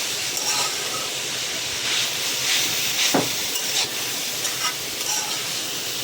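Vegetables fry in a pan on a low-flame stove, a close, steady hissing sizzle with occasional soft stirring scrapes and clinks.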